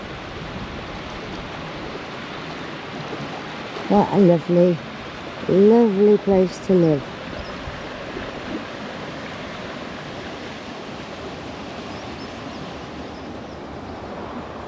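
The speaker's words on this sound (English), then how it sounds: "And the water's still going through the race." Water rushing steadily through an old mill race beside a still wheel after heavy rain, a continuous broad roar heard from close by, with someone speaking briefly over it midway.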